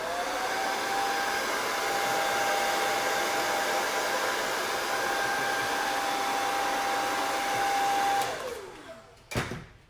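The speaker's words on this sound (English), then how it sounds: "I hope the blow dryer is not too loud." A loud, steady hair dryer blows continuously at close range with a high whine, then powers down near the end, followed by a brief thump.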